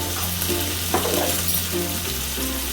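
Green chili paste and spices being mixed in a frying pan, with a steady loud sizzle under scraping stirs and a constant low hum.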